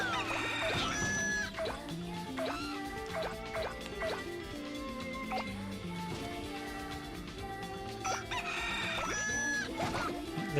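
Cartoonish chickens cluck and crow in the PlayStation 2 game Katamari Damacy, repeated short calls over steady upbeat game music, with someone talking at times.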